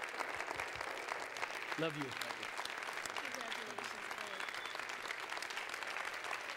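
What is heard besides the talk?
congregation applauding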